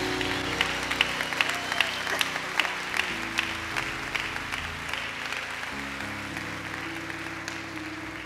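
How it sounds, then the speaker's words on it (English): A church congregation clapping hands in praise, a broad wash of crowd applause with sharp claps on top, steady and sustained under music. "put your hands together and give Jesus a hand clap of praise"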